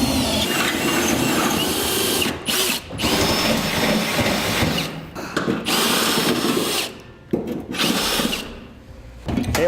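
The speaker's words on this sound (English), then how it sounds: "Use a step bit first, and then finish it off with a 9/16 drill bit." A power drill with a step bit whines steadily as it bores holes through metal on a Chevy/GMC truck for a fifth wheel mount, cutting out briefly between holes and then spinning up again, close and loud.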